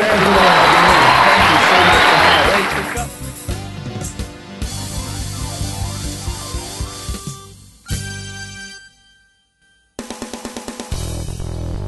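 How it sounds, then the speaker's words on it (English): A studio audience on a talk show applauds and cheers loudly for about three seconds. Music with rhythmic hits follows, then a short silence and more music. "Put your hands together for Angelo"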